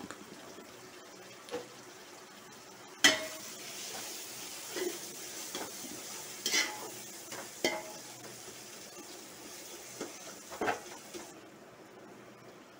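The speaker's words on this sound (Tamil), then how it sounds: "தக்காளி எல்லாம் நல்லா வதங்கிடுச்சு." Tomatoes with a little turmeric sautéing and being stirred in a pan for mutton biryani, a faint, soft sizzle with scattered light stirring taps and scrapes, quieter at the start and end.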